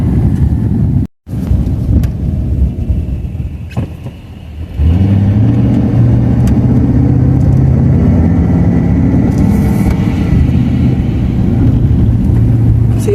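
Car driving home along local roads, with a steady interior engine drone and road rumble, some wind buffeting, and a brief dropout early before the engine note rises and holds.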